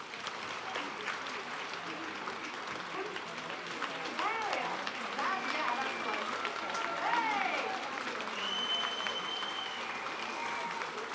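A concert audience at a Gregorian show in Ufa applauds after a song, sustained dense clapping that swells louder midway, with scattered whistles and cheers.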